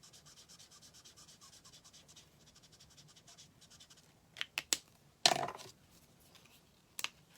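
Felt-tip or marker coloring in branches on a handmade card, a faint steady scratchy rubbing across the page, broken by a few short louder taps and scrapes near the end.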